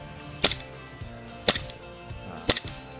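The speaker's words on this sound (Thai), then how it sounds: "สามนัดนะครับ ผมสาธิตสามนัดนะครับ" A Glock 18C airsoft BB pistol fires three sharp, snappy shots about a second apart, close and crisp with nothing else around them.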